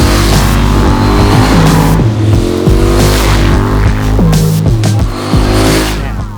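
A 2026 KTM 990 Duke R naked motorcycle roars loud and close with a bombastic exhaust note, revving up and down in repeated surges as gears climb.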